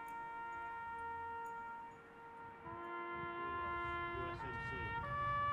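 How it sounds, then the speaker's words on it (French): Memorial sirens wail together in a long, steady tone during a remembrance ceremony for soldiers and victims, distant and fairly faint, with the pitch shifting slightly as the sirens overlap. "les sirènes retentissent en mémoire des victimes"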